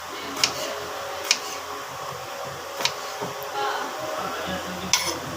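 A knife cutting onions, heard as four sparse, crisp chops spaced a second or more apart over a steady fan-like hum.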